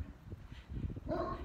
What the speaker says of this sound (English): my neighbors have a Great Dane. He barks at everybody.